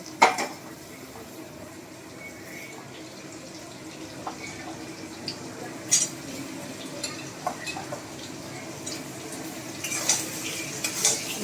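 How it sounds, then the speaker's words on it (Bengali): Thin boiled potato slices go into a pan one by one and are stirred, bringing sporadic metallic clinks and scrapes of a utensil against the pan over a low, steady background hiss. "এবার আমি একে একে আলুগুলো দিয়ে দেবো।"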